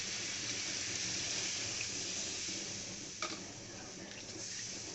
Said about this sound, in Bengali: এবার আমি ঝোলের জন্য পানি দিয়ে দেব